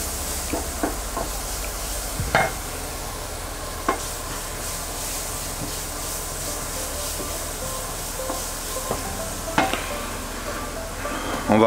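Chopped leeks frying in a pan while being stirred, giving a steady sizzle with occasional sharp clicks and scrapes of the utensil against the pan.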